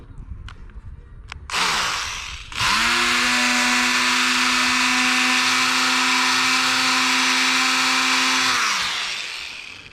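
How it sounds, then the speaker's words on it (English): Power scraper stripping old sealant from the roof of a 1999 Fourwinds Windsport 33B RV, a few short taps, then a loud high-pitched motor whine that runs steadily for several seconds before winding down. "Let's see if our power scraper will do anything different."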